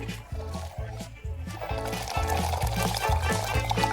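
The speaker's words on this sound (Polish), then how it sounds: "Wow, to dużo bąbelków." Fizzy soda pours into a cup with a steady bubbling hiss that runs under background music and chatter, growing fuller partway through.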